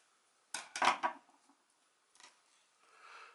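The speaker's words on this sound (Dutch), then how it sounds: "Je pakt je schaar," Scissors snip through crochet yarn at close range, a few quick metallic clicks followed by faint rustling of thread being pulled.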